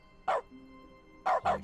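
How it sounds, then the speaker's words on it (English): Dog barks from The Stanley Parable triggered by clicking in the video game: a single sharp bark followed a second later by two quick barks, loud and clear against a quiet game background. "Now whenever you click something, it barks."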